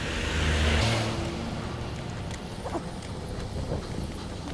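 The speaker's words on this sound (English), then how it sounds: "And there's a truck going the wrong way." A truck drives along the Monaco Grand Prix street circuit in the early morning, its engine a loud, close rumble that passes and fades into the quieter city ambience.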